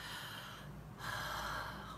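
A single deep inhaled breath, close and fairly quiet, drawn in sharply through the nose for about a second.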